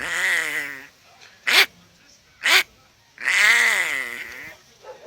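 A hunter voices an imitation of the hamrana bird's call: drawn-out, nasal, bleating cries broken by two sharp short yelps, close and fairly loud over a quiet background.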